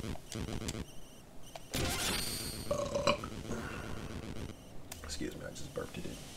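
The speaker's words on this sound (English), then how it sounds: "Excuse me, I just burped it in." A burp in the middle of casual talk during a Shovel Knight game session, sitting among voices and game sounds, fairly close but not loud.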